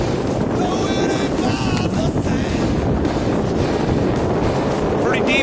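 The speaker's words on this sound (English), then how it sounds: "It's a little windy out here" Strong wind at Milwaukee Harbor buffets the microphone in a constant roaring rush, loud and close, with faint voice fragments underneath.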